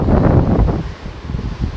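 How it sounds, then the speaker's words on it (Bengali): Strong wind blows across the Parasnath hilltop, 1365 metres high, buffeting the microphone in loud, low, gusty rumbles that ease briefly midway before surging again. "প্রচণ্ড বেগে হাওয়া চলেছে এখানে"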